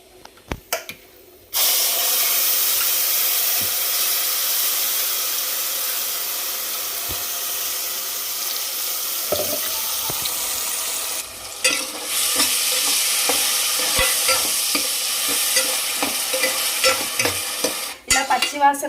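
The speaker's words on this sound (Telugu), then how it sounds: "ఈ పేస్ట్ని తాలింపులో వేసేస్తున్నాను" Blended mint paste dropped into a hot tempering, with a sudden loud hiss that holds steady and close, a brief dip and then a renewed burst, and occasional spoon scrapes as it is stirred.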